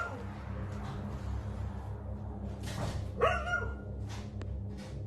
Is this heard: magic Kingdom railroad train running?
no